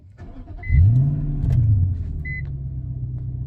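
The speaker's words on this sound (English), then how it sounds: "Let me turn the car on." 2006–2010 Infiniti M45 engine cranks and catches with a rising rumble, then settles into a steady low idle, close and clear.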